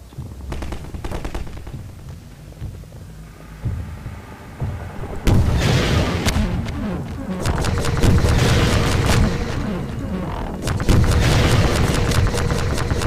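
Rocket launches and explosions in Half-Life 2 burst out loudly, with a large blast near six seconds and another near eleven, layered over dense rattling gunfire and rumbling combat noise.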